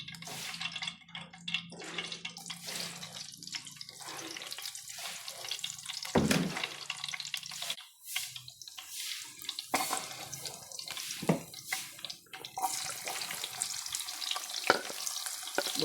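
Ginamos fermented fish paste with egg cooks in a pan, giving a soft sizzle and frying crackle with stirring scrapes and some running-water noise, moderately close and without talk.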